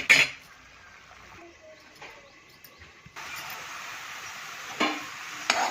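Masala roasting in a pan for a dry whole cluster bean (gavar) curry: soft stirring scrapes and a low sizzle, with occasional sharp utensil clinks against the pan and a fuller frying hiss in the second half.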